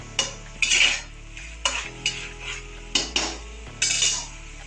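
Food sautéing in a pan for a home-style Tamil Sunday special dish, with a spoon scraping and clinking against the metal in repeated bursts of stirring over a low sizzle, close and fairly loud.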